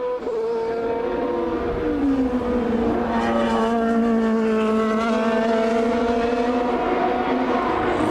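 Formula 3000 race cars from the 2002 season at San Marino scream past with loud, continuous high-revving engine whine, the pitch sliding down and back up as the cars pass, sustained throughout.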